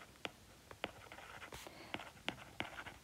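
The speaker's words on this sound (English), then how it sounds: "So I'm going to write that" A pen writes a number by hand on paper during a math lesson, giving a series of quiet, close scratchy strokes and taps at an irregular rhythm.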